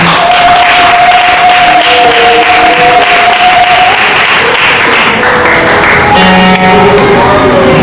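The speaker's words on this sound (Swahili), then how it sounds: "Nisaidie tena kumpigia Yesu makofi mazuri." A congregation at a gospel seminar clapping for Jesus, a sustained loud round of applause with cheering voices and a held musical tone underneath.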